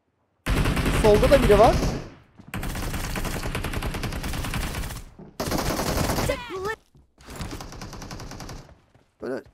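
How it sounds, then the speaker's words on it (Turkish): Bursts of rapid gunfire from PUBG Mobile come in separate blocks with short pauses, heard through a Fifine H6 gaming headset, while a voice speaks briefly between shots. "Böyle rakibin olduğu yerde silah sesleri net bir şekilde geliyor."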